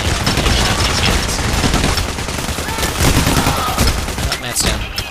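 Dense, continuous gunfire during a heist shootout in the video game Payday The Heist, several weapons firing at once at close range, loud and relentless throughout.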